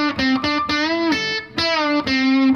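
Lead electric guitar with a distorted, effects-laden tone plays a sustained melodic phrase of held and bent notes, loud and close, with no talking.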